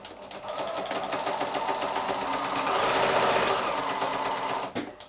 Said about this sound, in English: now we're just going to sew 1/4 inch either side of that line